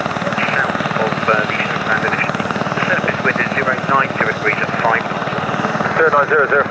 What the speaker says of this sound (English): Background Gazelle is ready to lift.